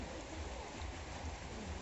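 Steady rain falls on a rural yard, a constant close hiss of water with no talking heard.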